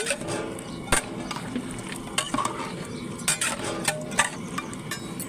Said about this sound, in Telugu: మధ్య మధ్యలో ఒకసారి ఇలా కలుపుకుంటూ ఉండాలి